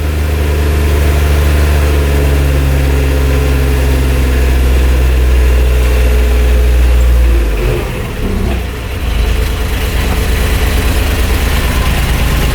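Kubota diesel utility vehicle engine revving steadily up a hill, a loud, close, continuous low rumble with a brief dip and shift partway through before the engine drones on.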